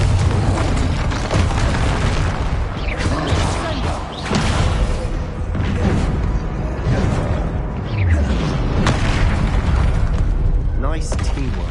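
Bombarda and Confringo spells explode in Hogwarts Legacy as a dense run of booming blasts and bursts, layered with game effects and voices talking over the action.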